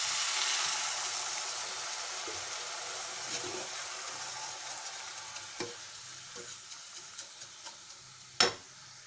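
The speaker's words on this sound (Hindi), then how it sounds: "इसमें अब हम थोड़ा सा पानी डाल देंगे" Water is poured into a pan of frying vermicelli for a sweet dish. It sets off a loud hiss and sizzle that gradually fades, with scattered small pops and one sharp clatter near the end.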